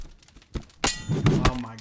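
A fire axe strikes a player in Reign of Kings, landing with a sharp metallic clang and thunk; a couple of close impacts follow in quick succession, with faint voices nearby.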